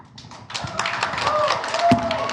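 Courtroom audience bursts into scattered clapping that builds and thickens over two seconds, with a voice speaking over the applause.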